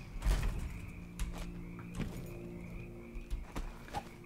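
Frogs croak in the city of Dunwall in the video game Dishonored 2, with several short, scattered croaks over a low ambient hum and faint background clatter.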